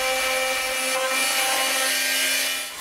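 Wooden surfaces being trimmed for a divisible composite mast build on a strongback, a steady close rasping and rubbing of a tool on wood that keeps going with no break.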